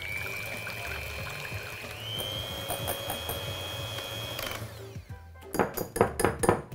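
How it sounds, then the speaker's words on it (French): An electric whisk beats egg whites to stiff peaks with a steady motor whine that steps up in pitch partway through, then cuts out, followed by a few sharp knocks and clatters against the bowl. "On peut alors se munir d'un fouet ou d'un fouet électrique comme celui-ci et battre nos blancs en"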